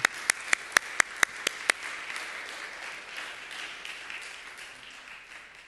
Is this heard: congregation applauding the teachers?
yes